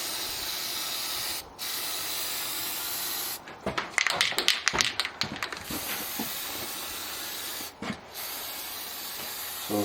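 Thermalox satin black paint sprayed from a can onto a 1984 Cat Elm wood stove, with short hissing bursts broken by pauses, then a quicker run of sputtering spurts, close and fairly loud.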